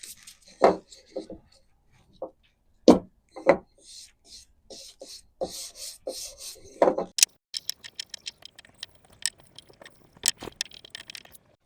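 Wood hexagon edges worked by hand with a plane or sandpaper: scattered scraping, rasping strokes in uneven bursts, close by with quiet gaps between passes.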